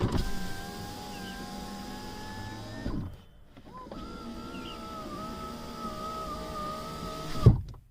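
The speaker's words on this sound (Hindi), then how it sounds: "इसके जब विंडोज रोल डाउन करते हैं तो इतना शोर करते हैं" Noisy electric window motors on a Skoda Kushaq 1.0 whir close by in two long runs, with a short pause between them and a soft thunk at the end of the second.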